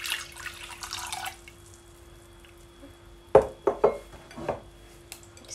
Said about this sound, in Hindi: इसमें मैं पानी ऐड करती हूँ।